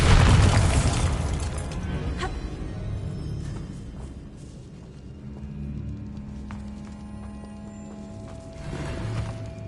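Bombarda spell explosion from the Hogwarts Legacy video game on PS5: a loud, close blast at the start that fades into a low, rumbling game ambience with scattered softer thumps.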